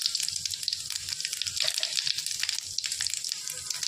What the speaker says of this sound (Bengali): শুকনো লঙ্কা এগুলো একটু ভাজা হয়ে গেছে।